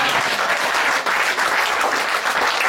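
Dense, steady applause from a church congregation fills the space, loud and continuous with no voices standing out above it.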